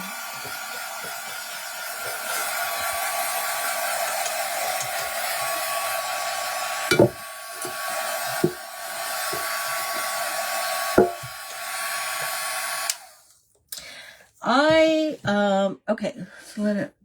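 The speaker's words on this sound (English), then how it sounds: "let me dry this real quick because I keep sticking my finger in some wet paint" A hair dryer blows steadily for about thirteen seconds to dry wet paint on a tin can tree base, with a few knocks partway through; it then cuts off and a voice talks.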